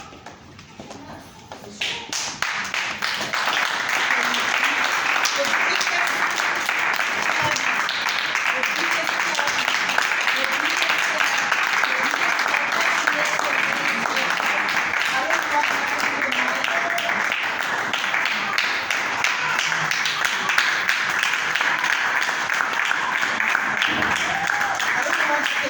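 Sustained applause from a crowd, loud and continuous for about twenty seconds after a brief quiet start, with scattered voices mixed in.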